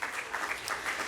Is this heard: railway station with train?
no